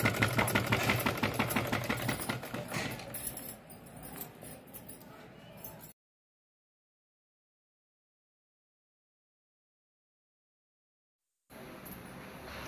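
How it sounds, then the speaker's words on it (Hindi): A home sewing machine stitches cotton underwear with a fast, steady mechanical chatter that slows and fades, then stops for several seconds of silence before starting up again. "बस सिलाई चल रही है"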